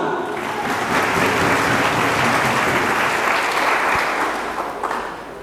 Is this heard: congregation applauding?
yes